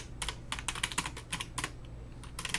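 Fingers typing on a computer keyboard while working at a Linux command line, quick irregular clusters of close clicky keystrokes with brief pauses, no voices.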